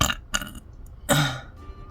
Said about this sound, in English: this is the part where you skip the video if you don't want to see me burp